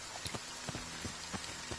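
Rain falls in the video game Friday the 13th, a faint, steady patter with soft, scattered droplet taps spread evenly throughout, and nobody talks.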